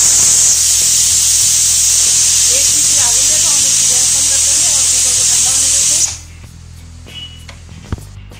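A pressure cooker of lobia aloo sabzi on high gas lets out a loud, steady jet of steam hissing up close for about six seconds, then cuts off, leaving quiet kitchen clatter.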